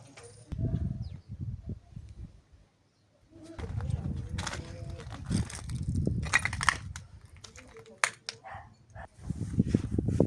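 A dog whimpers in Kherson's Korabelnyi district after shelling, its short cries mixed with people talking nearby and a few bird calls.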